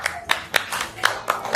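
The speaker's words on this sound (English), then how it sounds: "please clap for yourself" A small workshop audience of parents claps for themselves in a short burst of roughly six distinct sharp claps, evenly spaced and fairly close, with faint voices underneath.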